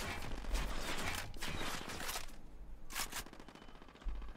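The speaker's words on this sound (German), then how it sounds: "Und ich werde beschossen." Gunfire and mortar shelling in Ghost Recon Wildlands, dense crackling volleys and bursts filling the mix, with a heavy low thump near the end.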